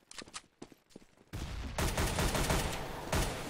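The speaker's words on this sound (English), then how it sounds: "It's going to be a shot from Blade to take down Zeus" Gunfire from a Counter-Strike match between FlipSid3 and Natus Vincere: a few sharp separate shots at first, then a dense, loud barrage of rapid automatic fire and explosions that continues steadily to the end.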